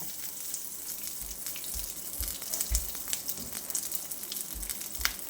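Garlic frying in hot oil as a tempering for vegetable sagu, giving a steady close crackling sizzle with a few soft low bumps from the pan.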